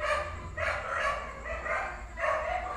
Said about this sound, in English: those were my dogs.